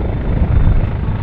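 An AgustaWestland AW139 helicopter at an air force celebration performing a stretcher rescue demonstration gives a loud, steady, close rotor and engine roar that fills the whole moment.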